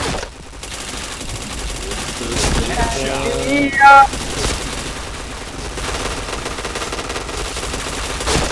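Rapid bursts of gunfire in a shooting video game, loud and dense with machine-gun-like rattles and a sharp spike midway, set over a constant game soundscape.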